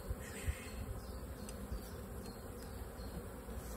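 A steady, dense buzzing of many honey bees in a hive close by, a continuous insect drone with a few faint knocks near the start.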